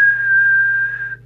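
A steady whistle held into a Moonraker Minor II mobile CB radio microphone during transmitter deviation testing, one continuous pure tone lasting just over a second before cutting off, loud and alone.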